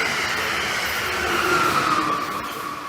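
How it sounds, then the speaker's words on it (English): A New Jersey-bound commuter train pulls into Metropark station on track 4, a loud, steady rumble with a rising metallic wheel whine that eases off as it slows. "Now arriving on track 4 is the New Jersey train."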